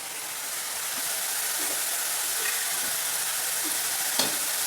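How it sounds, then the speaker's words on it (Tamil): Pearl millet murukku dough fries in foaming, bubbling oil, a dense, continuous loud sizzle close by with faint pops and one brief tap near the end, and no voices. "இந்த மாதிரி வந்துட்டு எண்ணெய் வந்து பொங்கி வருது இல்லையா, இந்த பொங்கி அந்த நுரையாக வர்றது வந்து அடங்கணும்."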